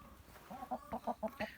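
Liven Calico chickens, a meat-and-egg breed, cluck nearby in a quick run of short, repeated calls, fairly faint against a quiet outdoor background.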